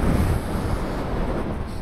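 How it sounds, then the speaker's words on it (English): Coastal wind blowing steadily across an open spot in the Angus countryside near Montrose, a loud broadband rush of gusts buffeting close to the microphone, alone without speech. "Oh, you can feel the wind."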